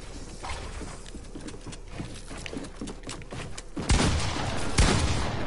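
Gunfire in a PS4 video game, a dense run of sharp shots and bursts through the whole stretch, growing louder and heavier toward the end, with no talk over it.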